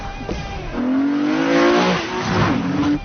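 A car accelerates hard in a movie car chase, its engine rising in a loud, strained rev with a brief dip and a second surge, up close and without speech.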